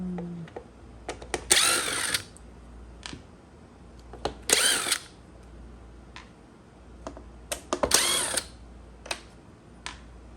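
A power driver backs screws out of the motor of a DeWalt 20V DCV580 cordless vacuum in three short whirring bursts, separated by quiet clicks and handling taps.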